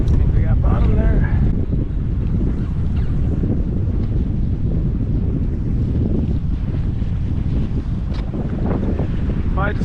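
Strong wind roars over a kayak at sea in the Pacific off Fiji, a loud continuous buffeting rumble with wave and water noise throughout.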